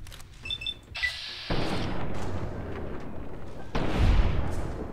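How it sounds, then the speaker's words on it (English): Gunfire and impacts in the video game Fallout New Vegas, with booming shots and explosive hits over continuous rumbling game sound. "Oh, come on, reload! Oh shoot, I almost hit, Boone on one of those."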